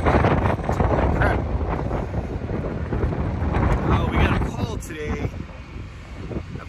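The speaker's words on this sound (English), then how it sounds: "today, it's a little windy, sorry guys, windy but nice." Wind gusts buffet the microphone outdoors beside a truck, a steady loud low rumble throughout with a person talking over it.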